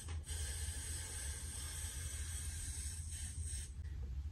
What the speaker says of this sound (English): Take this Gatsby and spray.